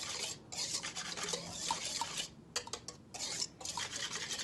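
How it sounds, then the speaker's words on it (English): A small wire whisk beats lumpy pancake batter of all-purpose flour in a bowl, giving quiet, uneven scraping and rattling strokes in short bursts with brief pauses. "with my little whisk here, I'm just getting all the little lumps out."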